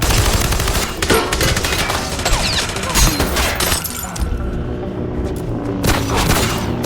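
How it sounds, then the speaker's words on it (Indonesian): Heavy gunfire from an action film gangster shootout, dense bursts of rapid shots and booms with shattering debris, loud and continuous before thinning near the end. "baik Joe maupun Fitz harus terkena tembakan dari mereka semua"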